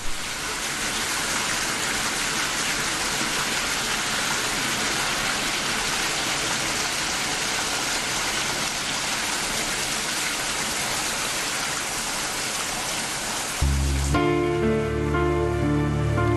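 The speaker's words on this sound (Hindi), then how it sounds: "बाहर बहुत बारिश हो रहा है।" Heavy rain falling outside, a dense continuous hiss of downpour heard steadily and close for most of the clip before a sudden shift to tonal music at the end.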